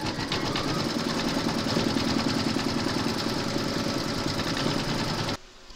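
An embroidery machine stitches a round of applique on a hooped parrot design, a loud, steady, rapid needle rhythm running close by for about five seconds before stopping abruptly.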